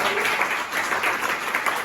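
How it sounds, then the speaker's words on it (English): Audience at a public speaking class claps for the speakers, a steady, moderately loud burst of many hands that fills the room throughout. "For that I expect clap from all your sides for you all"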